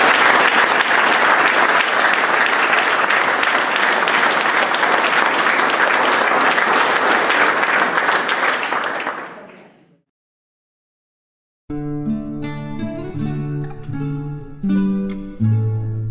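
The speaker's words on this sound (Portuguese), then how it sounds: "posso pedir mais uma salva de palmas para homenagear os aqui homenageados" Loud, sustained applause from an audience at a tribute ceremony for honourees at a Portuguese parish assembly fills about ten seconds before fading out, followed after a short silence by tonal instrumental music.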